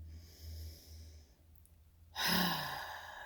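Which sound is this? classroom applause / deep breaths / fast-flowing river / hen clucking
deep breaths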